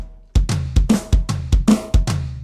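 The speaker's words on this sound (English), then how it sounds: "using his bass drum and the toms together" Drum fill played with the bass drum and toms struck together, eight or so heavy booming hits in a driving rhythm with ringing tom decay, close and loud with no voices.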